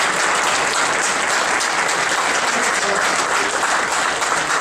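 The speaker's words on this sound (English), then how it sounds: "Let's give Dr. Jay Quade another big round of applause." A packed lecture audience applauds a speaker on early human research in Ethiopia, a dense, continuous wash of clapping that stays loud and steady throughout.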